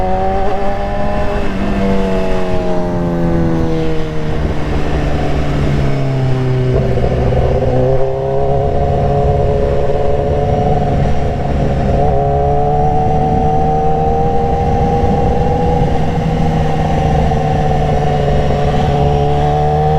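A BMW S1000RR sport bike pulls hard in third gear on the road, its engine note rising through repeated high-pitched climbs, loud and close over constant wind rush.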